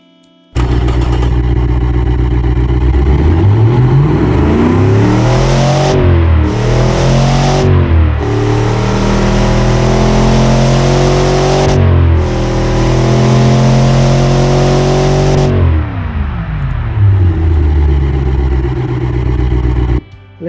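A Ford 255 Windsor V8 with twin straight mufflers in the Automation game revs loudly, rising and falling through several sharp throttle blips before settling into a steady drone and cutting off, with no talk.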